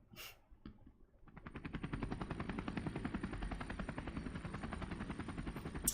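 Morgana transforming into a helicopter in the video game Persona 5 Royal, with a steady rapid rotor chop that starts after a few brief clicks and keeps up a loud, even beat for several seconds with no talk.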